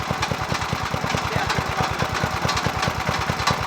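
A Craftsman 5hp tiller engine idles with a rapid, even chugging pulse, close and steady for the whole stretch, with no voices over it.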